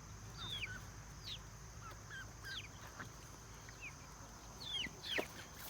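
Mixed farm flock of ducks and chickens of various ages, scattered honks, quacks and clucks calling out repeatedly at moderate distance over a steady outdoor background.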